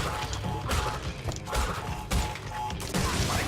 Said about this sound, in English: Oh, I need to be careful of those TNT explosions.